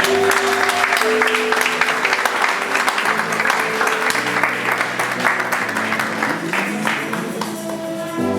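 A church congregation at a memorial service in Paris breaks into loud, sustained applause that fills the whole stretch, with organ or keyboard chords held underneath.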